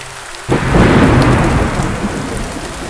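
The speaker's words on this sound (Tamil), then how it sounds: "மழை வெளியே தொடர்ந்து பெய்து கொண்டே இருந்தது." A sudden crack of thunder breaks over steady rain falling outside at night, then the downpour keeps drumming on surfaces as a loud, even hiss with a low rumble fading behind it.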